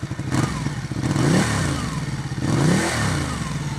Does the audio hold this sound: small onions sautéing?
no